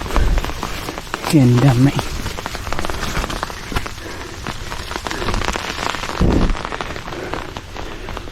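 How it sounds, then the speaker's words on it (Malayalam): Light rain patters steadily at the Kattadikadavu hilltop viewpoint, a soft continuous drizzle on surfaces close by, with a person speaking briefly early on. "ഇവിടെ ചെറുതായിട്ട് ഇപ്പോൾ പെയ്യുന്നുള്ളൂ"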